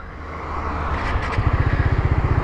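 Suzuki GSX-R150 motorcycle engine starting: a short hiss-filled pause, then the single-cylinder engine catches and settles into a close, rapid, even idle thump, loud and alone.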